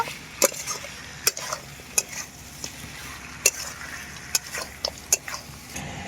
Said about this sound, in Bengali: মশলার সাথে আমি খুব ভালো করে আলু আর খাসির মাংসটাকে কষিয়ে নেব